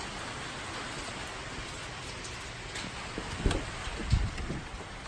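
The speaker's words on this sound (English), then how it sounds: "It's actually raining out today, but it's very cold outside." Steady rain falls outdoors on a cold day, a constant soft hiss with a couple of brief thumps near the end and no voices.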